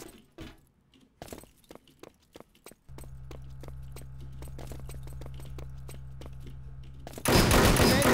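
Video game gunfire in an online shooter: a sparse run of sharp single shots, then a sustained mechanical rattle, ending in a loud, dense burst of noise, all close and with no talk over it.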